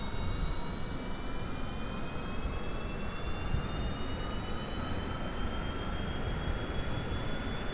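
A steady, loud jet engine roar from an aircraft in Kerbal Space Program, a broad continuous rumble with rising whine tones as the throttle opens, running unbroken with no talk.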